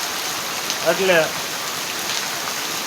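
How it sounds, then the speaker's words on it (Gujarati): Rain falls on open farmland, a steady, even hiss of drops across the whole stretch, with a brief voice speaking in the middle. "વરસાદ ફૂલ આવે છે"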